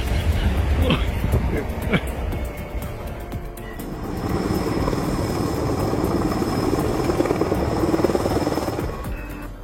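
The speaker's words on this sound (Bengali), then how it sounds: "এটি পাওয়ার লাইন রেস্কিউ হেলিকপ্টার।" A power line rescue helicopter flies with a steady, dense rotor and engine roar that holds at a constant loudness throughout. Faint sharp knocks come early, and no clear speech stands out.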